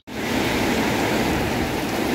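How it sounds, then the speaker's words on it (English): Heavy rain pours down in a dense, steady hiss that starts abruptly and stays loud and unbroken throughout, with no voices. "It's raining hard"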